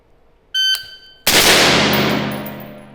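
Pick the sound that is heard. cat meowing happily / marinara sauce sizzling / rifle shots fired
rifle shots fired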